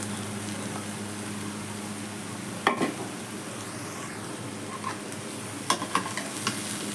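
Cut ridge gourd pieces fry in a pan with ginger-garlic paste, a constant close sizzle broken by a few sharp scrapes and clanks of stirring.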